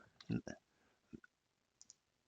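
Computer mouse clicks as a spreadsheet column is selected during data validation setup: a few sharp, close clicks, some in a quick pair, mixed with brief bits of speech, then near silence.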